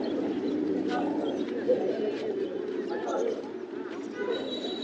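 Pigeons cooing at a crowded pigeon market in Bangladesh, soft repeated coos and bird calls layered over a constant murmur of voices and market bustle.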